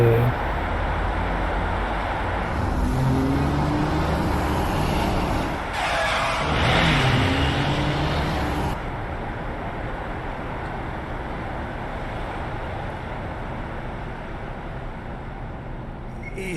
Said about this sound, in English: I can hear tires screeching.